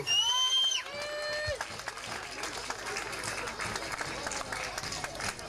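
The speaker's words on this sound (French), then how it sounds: "Maryse Notebar, qu'on peut applaudir bien fort." Audience applause for a festival coordinator during opening speeches at an arts festival, a dense steady patter of many hands with some crowd noise, starting right after a short whistled tone and continuing throughout.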